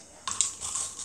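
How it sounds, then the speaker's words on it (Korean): A bite into frozen yogurt gives a short crunch and then brief crisp, wet chewing, close and soft, lasting about a second. "소리가 어떠나요? 얼린 요구르트"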